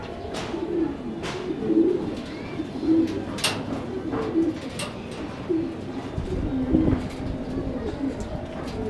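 Racing pigeons in a Philippine loft give repeated low, rolling coos at a steady pace, with someone speaking faintly in the background.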